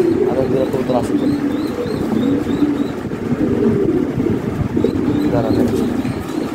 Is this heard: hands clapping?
no